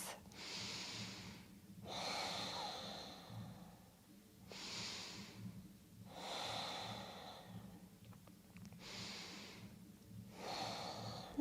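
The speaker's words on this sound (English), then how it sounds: "Taking 3 deep, life-affirming breaths." Slow, deep breaths during a gentle prenatal yoga session: several long inhale and exhale cycles, soft and close, with calm music held low beneath.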